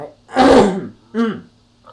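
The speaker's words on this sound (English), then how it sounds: "I'm just having a hard time clearing my throat there" A person clears their throat twice nearby, first a long rough rasp, then a shorter voiced grunt.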